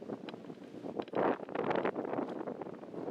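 Gusty wind buffets the microphone on a golf course during a headwind match, a broad rushing roar that rises and falls with stronger bursts, heard alone without talk.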